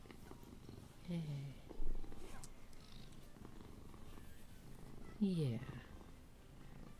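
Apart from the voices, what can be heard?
pet cat purring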